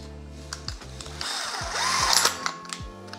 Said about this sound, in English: Let's get the drill.